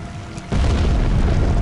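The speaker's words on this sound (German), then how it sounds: "Oh, da macht die Explosion, okay." A sudden booming explosion in the video game American McGee's Alice cuts in after a quiet moment and rumbles on loudly, with a low, sustained roar.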